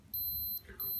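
A glucose meter gives short, high electronic beeps after a blood test, three brief chirps spaced apart, close and fairly quiet, with no speech over them.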